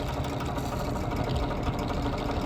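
A vintage box fan runs on its low setting, a steady dense whooshing hum of moving air with no breaks, close and fairly loud.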